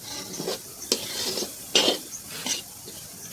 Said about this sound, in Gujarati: હવે આપણે જે રાજગરો ફોડેલો કમ્પ્લીટ કર્યો છે તે આપણે ધીમે ધીમે એડ કરી દઈશું. આ રીતે ચલાવતા જવાનું અને એડ કરી દેવાનું.